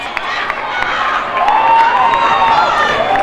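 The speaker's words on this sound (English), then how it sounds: "The crowd goes wild." Spectators at an under-16 knockout football match between Berkeley and CedarBridge roar and cheer after an equalizing goal, a dense crowd noise that swells midway with shouting voices and whistle-like cries.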